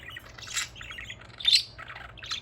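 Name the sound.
budgie (parakeet) chirping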